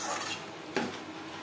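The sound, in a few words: mutton being stir-fried with masala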